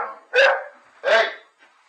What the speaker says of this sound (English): You noisy mutt.